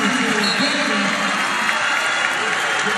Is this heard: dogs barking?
no